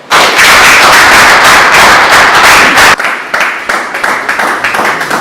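An audience gives a loud, close round of applause for speaker Bill Taylor at a talk on protecting assets; dense clapping fills the first few seconds, then thins into scattered claps.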